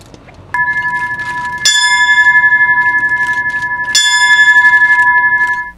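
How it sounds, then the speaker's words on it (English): Memorial bell for a 9/11 remembrance ringing in slow, clear strokes, each loud and close with a long ringing decay that overlaps the next; no talk. "the bell rings 10 times in memory of and in tribute to their life and service"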